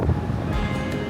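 Strong wind gusting across the open upper deck of a Viking Line cruise ferry sailing from Stockholm to Helsinki, a steady close roar of buffeting wind noise with faint sea wash underneath and no talking.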